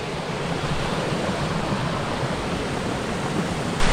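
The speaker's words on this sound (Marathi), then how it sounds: "तर बघा मस्तपैकी खळखळून पाणी वाहतं आता सर्व प्रत्येक नदीला।" River water gushes and flows past in a village setting, a steady, loud, close broadband rush that holds evenly throughout with no voices.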